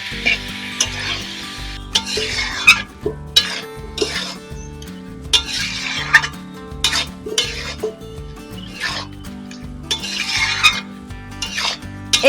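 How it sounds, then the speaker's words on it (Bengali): Lightly fried amla pickle is stirred in sugarcane jaggery in a pan, giving a steady sizzle with repeated scraping strokes of a spoon against the metal, close and alone without talk. "এইভাবে গুড়ের মধ্যে বেশ কিছুক্ষণ ধরে নাড়তে হবে"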